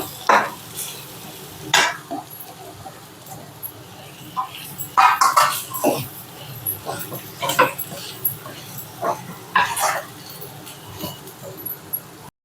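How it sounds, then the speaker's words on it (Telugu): Mushroom fried rice being stirred in a pan over a low flame, with repeated close spatula scrapes and clinks against the pan over a faint sizzle and no talk. "నెక్స్ట్ రైస్ వేసుకొని మిక్స్ చేసుకోవాలి లో ఫ్లేమ్లో పెట్టుకొని రైస్ని కలుపుకోవాలి"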